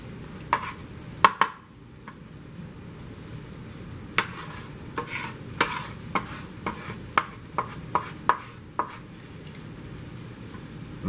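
Onions go into a hot pan with potatoes, sizzling quietly under repeated sharp clinks and scrapes of a utensil stirring against the pan.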